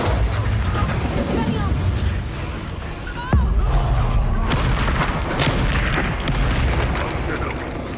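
A Confringo fire spell explodes in the Hogwarts Legacy video game, a sharp booming blast about midway through a dense, continuous wash of battle effects and magical combat noise.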